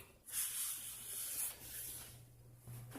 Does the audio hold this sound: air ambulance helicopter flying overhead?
no